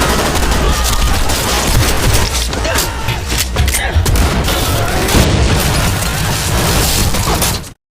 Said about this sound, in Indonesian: ia sendiri tewas dihujani peluru